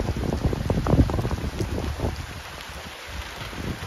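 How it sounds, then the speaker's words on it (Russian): A heavy rain downpour hisses in a dense, steady wash, with rough wind buffeting the microphone and gusty rumbling that is strongest early and eases toward the end. "просто ливень"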